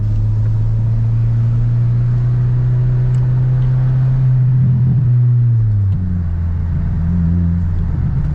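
An Acura RSX with a newly fitted exhaust pulls hard in second gear, a loud, steady droning engine tone heard from inside the car that shifts pitch partway through before carrying on at full volume.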